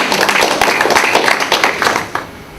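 A speaker claps for the audience at a conference, a dense burst of close hand claps fading out after about two seconds.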